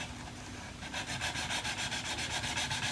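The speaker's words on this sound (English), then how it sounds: "I'll just take that down first with a coarse emery board" Rhythmic scratchy rubbing of a coarse emery board against hard plastic, quick regular back-and-forth strokes after a softer start, close by.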